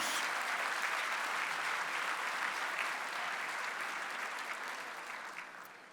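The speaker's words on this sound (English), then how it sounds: "a round of applause for your committed union leaders." A gala crowd applauds union leaders, a sustained even roar of many clapping hands that holds steady and then gradually tapers toward the end.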